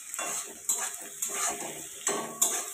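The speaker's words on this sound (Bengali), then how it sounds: "তো দেখো পেঁয়াজটা এখন আমি ভাজা ভাজা করে নিচ্ছি" Chopped onions frying in a pan for a mutton and potato curry, a steady hiss of sizzling oil broken by several sharp scrapes and clinks of a spatula stirring against the pan.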